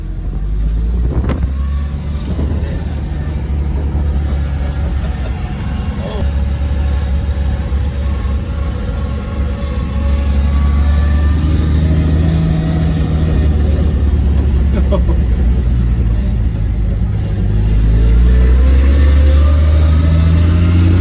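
A 1966 Ford F350 field-find truck, back on the road after 31 years, drives along with a loud, steady engine drone and road rumble that build in intensity, with no talk.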